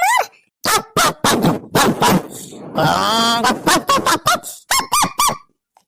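A man imitates a dog barking, giving a quick series of sharp yaps and yelps with a longer whining howl in the middle, close and loud, with his speaking voice mixed in.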